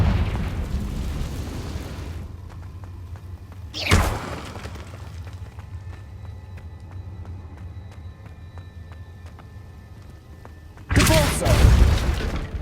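Confringo spell explosion in the Hogwarts Legacy video game: sharp, loud blasts erupt near the start, at about four seconds and again near the end, separated by a quieter stretch of faint ambient tones.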